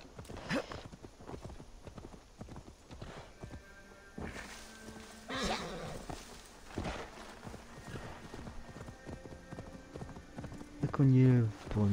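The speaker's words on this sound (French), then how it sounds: "Il y avait mon cheval." Horse hooves clip-clop steadily in Assassin's Creed Valhalla, a run of even hoofbeats at moderate loudness, with someone talking over them and a brief whinny-like sound near the end.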